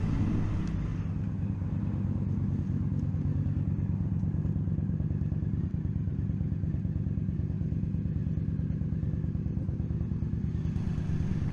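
An Indian FTR1200 motorcycle idles while being parked, its engine giving a steady low, throbbing rumble with a fast pulsing beat, close and continuous, with no talk over it.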